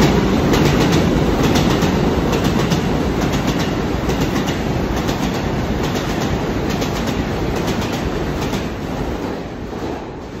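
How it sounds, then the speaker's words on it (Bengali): New York subway express trains, the number 2 and 3, running through 86th Street station on the middle track without stopping, a loud, continuous roar with rhythmic wheel clatter that fades slightly toward the end. "এই এক্সপ্রেস ট্রেনগুলো বেরিয়ে যাচ্ছে এখান দিয়ে, যেগুলো দাঁড়ায় না স্টেশনে"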